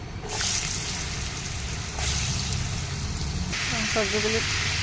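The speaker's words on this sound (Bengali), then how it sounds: "এখন দিয়ে দেবো সবজিগুলি" Vegetables hiss and sizzle in hot oil after a tempering of whole cumin and a dried red chilli, a loud steady frying roar with a voice speaking over it.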